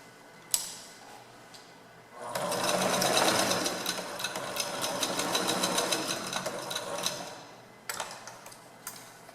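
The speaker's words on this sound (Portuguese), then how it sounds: "Eu vou passar uma costura em cima desse risco." A sewing machine runs a seam over a marked line on fabric for a handmade fabric jewelry box, a steady rapid stitching rattle lasting several seconds, bracketed by quieter handling clicks before and after.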